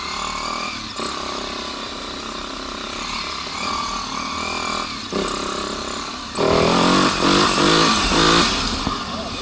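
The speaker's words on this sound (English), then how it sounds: "that was third gear idling along, Dan" V4 motorcycle engine burbling along in third gear on a ride, then the throttle opens and the engine note rises into a louder, rougher surge of acceleration, with wind rushing throughout.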